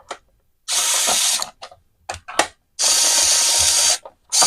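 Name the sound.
electric screwdriver opening a blender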